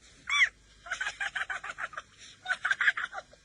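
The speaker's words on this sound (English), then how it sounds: "he heard a strange chirping laugh coming from the back of the shop" A Mogwai creature gives a strange chirping laugh, a series of high, bird-like chirps and clucks in quick bursts, fairly faint and alone.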